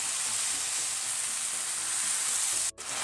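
Vegetables sauté in a pan with a steady, close, even sizzle and a soft stirring scrape. Near the end there is a brief dip and a sharp click.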